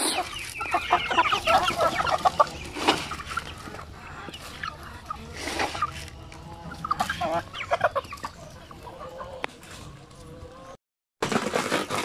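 Basilan native chickens in a breeder pen cluck and cackle continuously nearby, with several birds overlapping and a brief dropout near the end.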